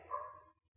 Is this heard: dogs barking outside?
yes